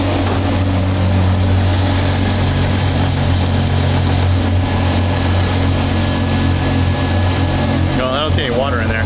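A car engine idles steadily while warming up, with a low, constant hum throughout, while people talk over it nearby.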